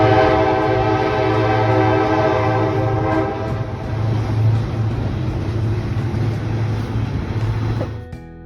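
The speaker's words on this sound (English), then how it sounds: "On Monday, we went on a train ride through the Royal Gorge." A train running through the Royal Gorge in Colorado gives off a loud, steady rolling rumble with tonal horn-like hums, continuous for several seconds before a sudden drop at the end.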